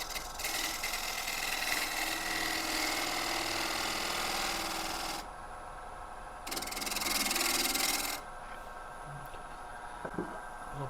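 A bull gouge cuts spalted oak spinning on a wood lathe, giving a loud, continuous hissing scrape that stops briefly twice while the motor hums underneath.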